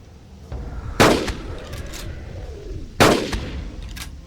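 Two sharp reports from a tranquilizer gun in the video game Carnivores Dinosaur Hunter Reborn, spaced about two seconds apart over a low outdoor background, each followed by a brief fading echo.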